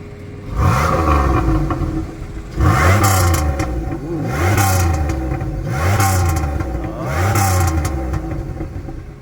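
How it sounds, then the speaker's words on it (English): A Pontiac Grand Prix with a 3800 engine is revved four or five times in quick succession, each loud exhaust blip rising sharply and falling back to a rough idle, close by and without talk. "Give it a couple revs."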